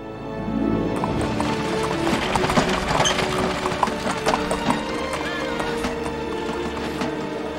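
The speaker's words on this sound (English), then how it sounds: "Looks like your own horse, Tornado." Horse hooves clip-clop in a quick, irregular rhythm on a hard surface during a training session, fairly close and loud, with a brief whinny-like sound and background movement throughout.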